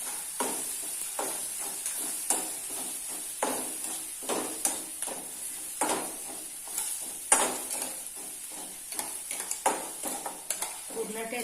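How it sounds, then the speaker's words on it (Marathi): Thecha, a crushed chili and garlic paste, sizzles and fries in a pan while being stirred, with steady hissing broken by repeated scraping stirs; a voice speaks now and then over it. "आपण ठेचा चांगला परतून घेऊया व्यवस्थितपणे."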